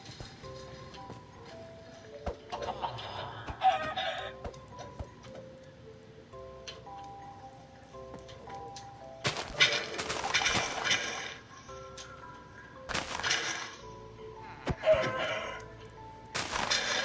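Chickens in a video game cluck and crow repeatedly over a steady ticking game soundtrack, with several louder bursts of squawking as they are hit, mid-loud and close.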